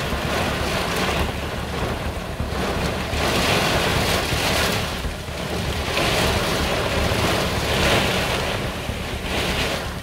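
Strong gusting wind and heavy rain as a thunderstorm moves over a village in northern France, a loud continuous roar that swells and eases in repeated surges, with wind buffeting the microphone and no talk.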